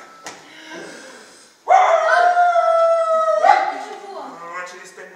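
A dog howls as a sound effect in a stage play, one long wavering howl with rising and falling pitch after softer whimpers, heard close and clear alongside a few quiet vocal sounds.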